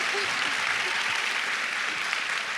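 An audience at a talk-show style conversation event breaks into sustained, dense applause, loud and even throughout with a faint murmur of voices underneath.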